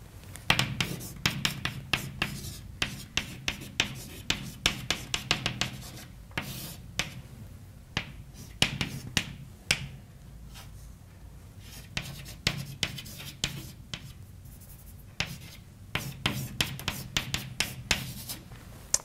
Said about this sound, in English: So let me write down the definition again.